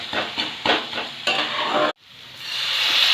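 Egg curry with poppy seeds gets mixed in a pan, rhythmic spatula strokes over a loud close sizzle that cuts out abruptly, then a rising hiss returns.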